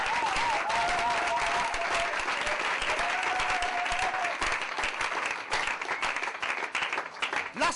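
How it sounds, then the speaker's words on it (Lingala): A congregation at a church service breaks into sustained applause, a dense wash of clapping across the whole span, while a voice sings or calls out above it early on. "acclamons pour la parole de Dieu"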